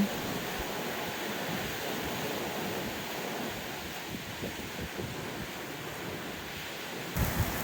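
Sea waves wash onto the shore at Odesa under overcast clouds, a steady broadband roar of surf with no speech.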